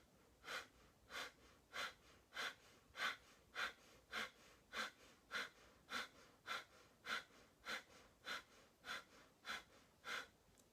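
Accelerated yogic breathing, with the navel drawn in on each exhale: about eighteen sharp, forceful breaths in a steady quick rhythm, close and alone against near silence.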